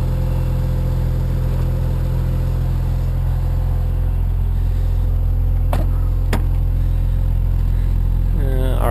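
A Mazda RX-7 turbo convertible idles after a cold start, a loud, steady, close engine rumble with a couple of brief sharp clicks near the end.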